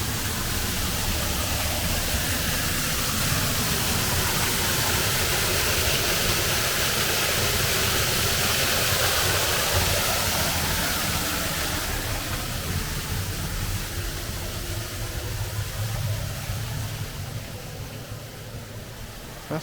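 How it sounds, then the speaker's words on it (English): A steady, roaring rush of falling water from a waterfall at Hampton Court Castle that can be walked behind, loud and continuous, easing slightly toward the end. "Oh look, you can actually walk behind the waterfall."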